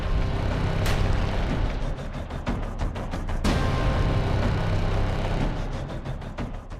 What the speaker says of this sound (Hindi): युद्धपोत की तोपें गरज रही हैं।